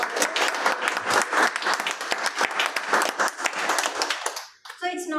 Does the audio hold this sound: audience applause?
yes